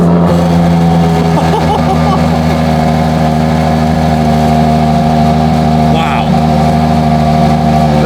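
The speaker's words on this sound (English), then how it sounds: "Let's hear this V12, my man. Let's make it sing." A Ferrari Monza SP2's warm V12 engine idles and revs loud and close, a steady throaty drone with rising pitch swings, while a man exclaims over it.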